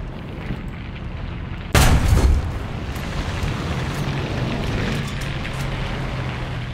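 A single sharp cannon blast from an M11/39 tank in War Thunder cuts through a steady low engine rumble, then the idling drone carries on alone.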